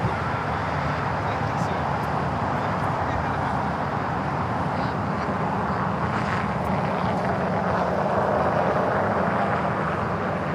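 An American Boeing 787 Dreamliner takes off from runway 25 right at LAX, a steady loud jet roar heard from a distance that holds through the whole stretch and swells slightly toward the end.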